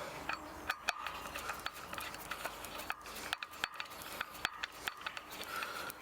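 A Torx T25 bit tightens brake disc bolts on a bicycle wheel during an electric hub motor conversion, giving quiet repeated ratcheting clicks and small metallic taps in irregular bursts, close by and without speech.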